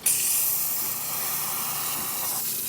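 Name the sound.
Crossland coffee machine steamer hissing steam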